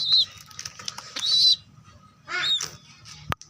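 Pigeons flap their wings in bursts, with quick whirring flutters and a few bright chirps close by, separated by quieter gaps and ending in a sharp click.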